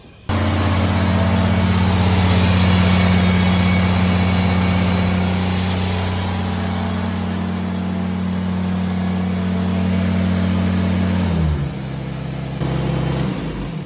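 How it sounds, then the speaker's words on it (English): Twin engines aboard the sailboat Seeker run together from inside the hull, a loud, steady, droning hum that dips and shifts pitch near the end as one changes speed. "Is what it's like to run both engines at the same time"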